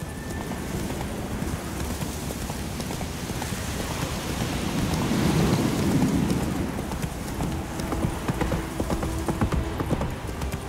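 Horse hooves clip-clop steadily at a walking pace in The Witcher 3, with rain and occasional distant thunder in the game's ambience underneath.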